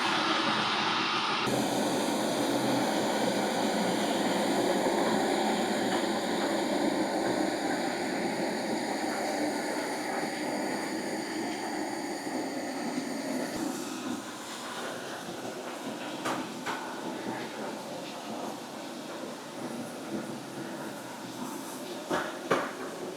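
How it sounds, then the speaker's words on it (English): A Gadlee GT30 walk-behind floor scrubber runs with its squeegee down, a steady whirring motor and suction noise that holds for about fourteen seconds before cutting out, leaving quieter clicks and handling sounds. "Okay, turn the machine on, squeegee down,"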